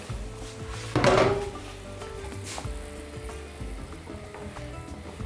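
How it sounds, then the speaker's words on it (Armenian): Potato cooking water poured onto sizzling fried onions in a pan, a sudden loud hiss and rush of liquid that settles into a softer steady sizzle with light knocks, no talking. "կարտոֆիլի եփաջրից լցնում ենք սոխարացի վրա"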